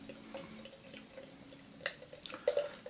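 Sierra Nevada / Dogfish Head Life and Limb beer is poured from a bottle into a glass, giving quiet, close trickling and splashing that grows busier toward the end, with no talk.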